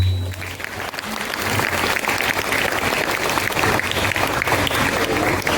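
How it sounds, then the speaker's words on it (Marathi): An audience gives a round of applause for Chintankar sir at a children's literature conference, a dense, loud wash of clapping that swells slightly and holds steady throughout. "एकदा आपल्या चिंतनकर सरांसाठी जोरदार टाळ्या"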